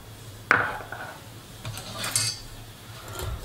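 Egg yolks and sugar go into a small mixing bowl, giving a sharp clink of utensil on the bowl followed by a few softer taps and scrapes, close and otherwise quiet.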